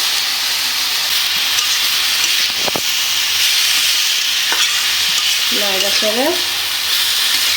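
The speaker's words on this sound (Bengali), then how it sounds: "এখন ভাজিটা দিয়ে দিব" Vegetable fry sizzling steadily and loudly in a pan in a village kitchen, with a constant hiss throughout, occasional scraping clinks of a stirring spoon and a few brief chirps near the end.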